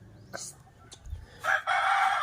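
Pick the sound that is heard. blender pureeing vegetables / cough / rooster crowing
rooster crowing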